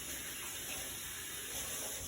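A steady stream of tap water runs into a kitchen sink while food is rinsed, a continuous broadband hiss with no talk.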